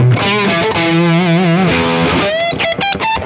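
A distorted electric guitar through a Neural DSP Quad Cortex amp modeler plays sustained, wavering bent notes and then a quick run of picked notes, loud and saturated, with no voices.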